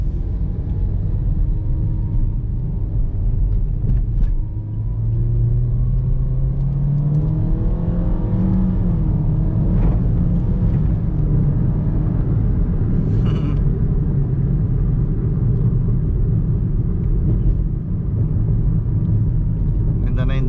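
A 2020 Toyota Vios XLE sedan with a CVT, driven in manual mode, accelerates with a steady loud engine rumble and whir that rises in pitch, heard from inside the cabin. A voice talks over it at times.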